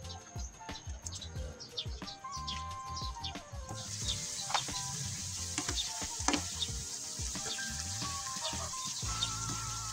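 Vegetables sizzle steadily in a pan for Ilocano pinakbet with malunggay pods, a dense close frying hiss with scattered crackles and pops that grows louder partway through and carries on without talk.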